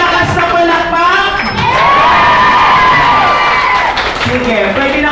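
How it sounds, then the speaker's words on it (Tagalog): A crowd cheers and shouts loudly for first-time attendees at a presentation, with high excited voices, whoops and some clapping blending into a sustained roar. "Palakpakan natin ang ating mga first-timers."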